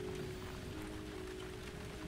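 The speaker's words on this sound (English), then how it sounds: "Yeah, it's raining on the screen." Rain falls in the video game Mount and Blade Warband, a steady, soft patter of drops on surfaces with a faint tonal hum beneath it.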